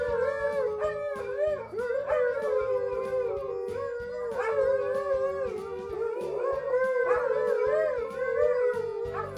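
Several dogs howl together in a sustained, wavering chorus, their overlapping pitches rising and falling continuously, loud and close.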